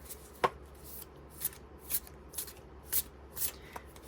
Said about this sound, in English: This is a nicer way to shuffle, I think.